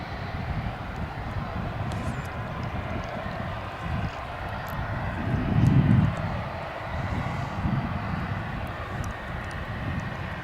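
Airplane at DFW International Airport, a steady broad engine roar from the runway area that swells briefly louder midway, continuous and moderately distant with no talk.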